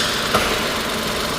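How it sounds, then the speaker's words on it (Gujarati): A car engine idles steadily and quietly with its bonnet open, a low, even hum with a slight vibration running throughout, close by and alone. "એન્જિન લઈ લ્યો કેટલું સાયલન્ટ છે"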